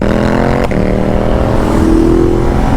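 A 1000cc sport motorcycle engine revs and drones loudly up close, a steady throaty roar with a brief dip in pitch before climbing again, no talking.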